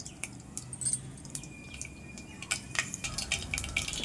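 Mustard seeds and fenugreek pop in hot oil in a pan, giving scattered small crackles and spits that grow denser toward the end over a faint sizzle, close and moderately quiet.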